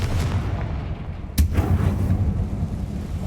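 A Confringo blast from Hogwarts Legacy lands as a single sharp crack and thump midway over a steady low game rumble, with no one speaking.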